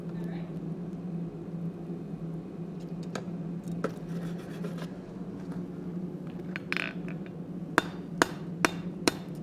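A blacksmith hammers hot steel on an anvil, drawing it out in a live forging session: scattered ringing strikes build to a run of sharp, evenly spaced blows near the end over a steady low hum and background talk.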